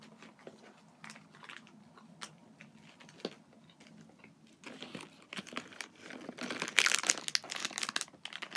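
A small plastic pouch holding a Bobo's chocolate chip oat bar crinkles and rustles close by, starting quietly and swelling into louder, dense crackling as it is handled and torn open.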